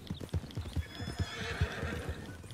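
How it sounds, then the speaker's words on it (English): A horse in Red Dead Redemption 2 trots with a steady rhythm of clip-clopping hoofbeats, joined by a neigh partway through, moderately faint and with no talking. "Follow his horse."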